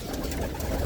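Soft, low racing pigeon cooing hums continuously, close by, with no voices.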